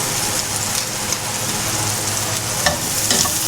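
Onions and garlic sizzle loudly in butter in a pan as a continuous close hiss, with a few faint clicks of a utensil near the end and no voices.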